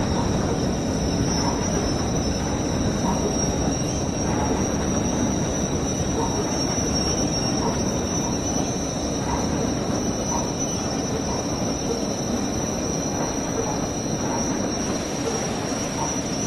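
Wheels of a coal train in Train Sim World 6 squeal under braking, a constant high, piercing screech over a dense rolling rumble of the wagons that holds loud and unbroken throughout.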